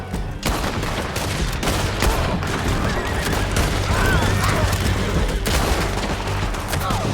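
Dense, continuous gunfire fills a shootout with riders on horseback in the Red Dead Redemption epilogue, loud and close, with overlapping bursts and no pauses; any horse whinnies are buried in the shooting.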